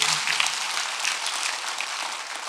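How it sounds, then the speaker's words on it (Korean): A church congregation applauds during a Sunday worship service, a dense, steady patter of many hands clapping at once that holds for a few seconds without pause. "박수 한번 드리세요"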